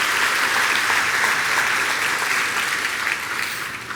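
Steady, dense applause from a church congregation, loud and sustained throughout with a faint crowd murmur, tapering slightly toward the end.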